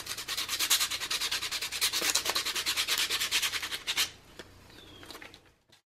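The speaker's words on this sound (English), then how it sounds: "The paint is now dry, so I'm just taking some sandpaper. Just kind of sand the edges a little bit." Sandpaper rubbing the edges of dry painted wood in quick, steady back-and-forth strokes, close and crisp, easing off into a few scattered scrapes at the end.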